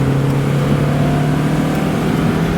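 1991 Mazda MX-5 Miata with 49K miles driving, heard from inside with a steady, loud engine hum and road noise under acceleration, continuous and close, with no talk.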